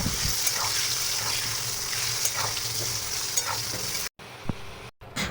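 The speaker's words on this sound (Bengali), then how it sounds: "এবার এক এক করে লাল লাল করে আলুগুলোকে ভেজে নেব" Potatoes fry in hot mustard oil in a pan with a loud, continuous sizzle and occasional stirring scrapes, close by. The sound breaks off briefly near the end.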